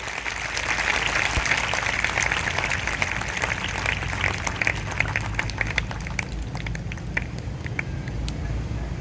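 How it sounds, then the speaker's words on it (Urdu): A congregation in a Karachi parish church applauds during a devotion honouring Holy Mary, with dense, sustained clapping that fades gradually over several seconds. "زوردار تالیاں مقدسہ کی شان میں بتائیے۔"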